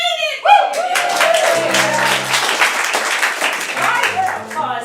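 Audience at an improv theater before a Theatresports match claps and cheers in a moderate burst, with voices over the applause.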